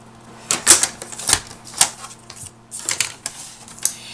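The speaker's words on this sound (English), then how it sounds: "And just cut that piece with your paper trimmer." Paper trimmer slicing a strip of red cardstock at a craft table, a series of close, crisp clicks and short scraping strokes in uneven rhythm.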